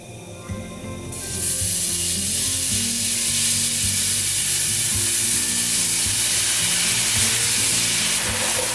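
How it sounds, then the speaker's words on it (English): Dry white wine poured into a hot pan over cooked-out flour for a chicken pasta sauce: a quiet start, then a sudden loud, steady sizzle and steamy hiss that holds close and continuous to the end. "I'm just adding in 1/4 cup of like a dry white wine"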